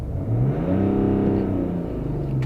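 A BMW X5 30d (G05) diesel inline-six engine revs up smoothly from idle with climate control off, holding a steady rising drone before easing back, close and loud with no talking.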